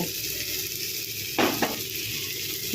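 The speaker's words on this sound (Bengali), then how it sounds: "এবার পোস্তের পেস্টটা দিয়ে দেব" Poppy seed paste going into a hot pan of oil for a Bengali posto dish, a steady sizzle with a brief louder burst as the paste lands and is stirred.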